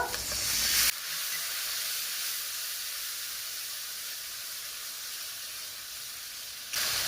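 Spice paste of ginger-garlic and turmeric frying with a splash of water for chicken and potato curry, giving a steady close hiss and sizzle throughout, sharper bursts at the start and end, with no talk.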